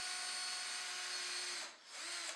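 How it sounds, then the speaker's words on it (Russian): A drill bores a small pilot hole into a wooden chair leg, a steady loud whine running continuously with a brief dip near the end before resuming, heard alone without talk. "Засверливаю отверстие."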